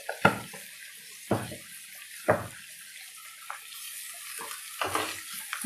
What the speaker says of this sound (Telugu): ఇలా మంచిగా కలిపేసి ఇది కొంచెం మధ్య వరకు మూత పెట్టేసి ఉంచాలి.